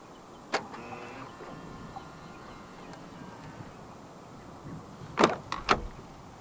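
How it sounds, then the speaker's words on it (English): Faint mechanical clicks as a 2025 Jaecoo J8 unlocks via its keyless door handle, followed by a quick cluster of sharp latch sounds near the end, over a soft background hiss. "And to unlock the car, just press the indented area on the driver's side door handle again."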